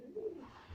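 Soft, low cooing from pigeons in a loft during pairing season, a murmuring throaty coo that swells briefly and then fades under a steady background hum.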